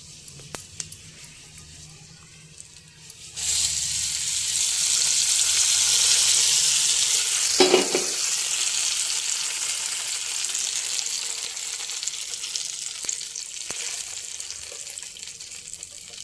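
Hot tempering is poured into cashew chutney, bursting into a loud sizzling hiss a few seconds in that stays strong and gradually settles, preceded by quiet kitchen clatter.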